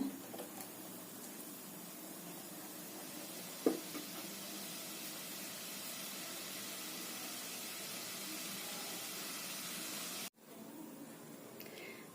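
A soft, steady hiss of simmering water bubbling in a pot, with a single light knock partway through and a brief cut near the end.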